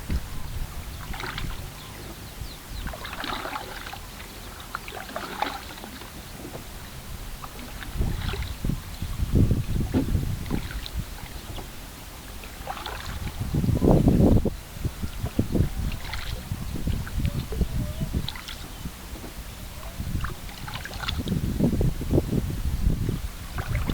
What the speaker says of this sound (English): So now what we're doing is we're paddling back, and it's super peaceful and beautiful here.